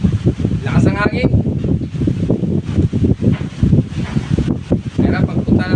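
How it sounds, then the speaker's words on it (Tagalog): Strong gusts roar across an outdoor microphone in heavy buffeting bursts, with a person speaking intermittently over the rumble. "Lakas ang hangin."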